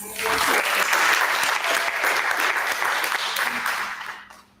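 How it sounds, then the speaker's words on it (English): Dense, steady audience applause at a live Legacy show, loud and sustained for about four seconds before trailing off quickly at the end. "Round of applause."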